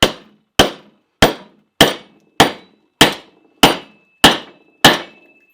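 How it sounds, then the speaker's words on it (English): A NedFoss 13-inch hatchet is struck nine times with a red oak piece used as a hammer, each blow a sharp ringing clack decaying quickly, spaced evenly about half a second apart, loud and close. "We're going to go old school with a piece of wood as our hammer."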